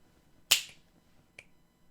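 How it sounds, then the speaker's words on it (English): Two crisp finger snaps, the first loud and sharp with a short ring-off, the second fainter about a second later, in a quiet room. "Man, I wish I could snap like that."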